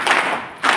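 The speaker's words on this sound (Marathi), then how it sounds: "सावित्री महिला ग्रामसंघ या ग्रामसंघाच्या अध्यक्षा कुसुमताई यांचं देखील आपण 3 टाळ्या वाजवून स्वागत करू." Hand claps of welcome from a women's village group at a meeting, two sharp, fairly loud bursts of clapping separated by a short pause.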